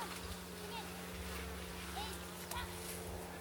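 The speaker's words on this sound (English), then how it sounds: "Good number of bees up in the lid, which is always good to see." Honey bees buzz in a steady, close drone around the lid of a beehive on a rainy day, a continuous hum with a few individual bees flitting past.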